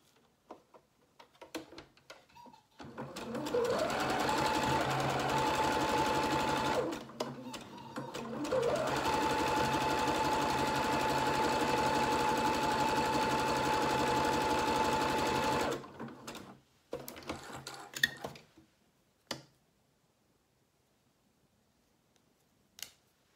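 A sewing machine stitches the shoulder seam of a knit cardigan in two long, steady whirring runs, with a short pause between them, followed by scattered clicks, snips and handling sounds as it falls quiet.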